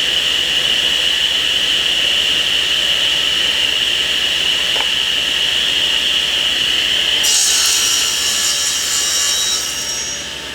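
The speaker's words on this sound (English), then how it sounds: "This is a right tilt saw, which means that the blade tilts toward the rectangle." A right-tilt table saw rips through wood with a steady, loud, continuous whine held for about seven seconds, then a brighter, harsher cutting rasp rises as the blade finishes the bevel cut before the sound tapers off.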